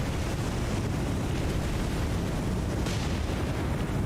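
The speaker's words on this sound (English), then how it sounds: "Ooh, that explosion doesn't seem to be a good idea." A heavy rumbling explosion rolls through a battle at sea in the naval video game War on the Sea, a dense, continuous roar with no clear start or end and no talking.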